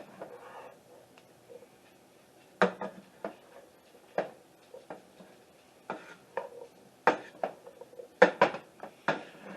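Drained canned peas being stirred in a pot, with a scatter of sharp utensil scrapes and clinks against the pot, irregular and close, in a quiet kitchen without talk.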